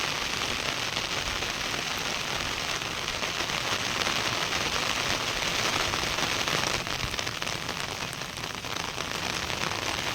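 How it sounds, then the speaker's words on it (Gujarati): Heavy monsoon rain pours down over farm fields in a thick, unbroken roar of drops hitting surfaces, loud and constant throughout. "અહીંયા બહુ વરસાદ છે."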